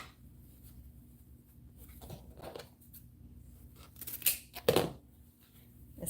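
Scissors cut ribbon tails for a bee wreath with a couple of quick, close snips near the end, after quiet rustling of ribbon and handling.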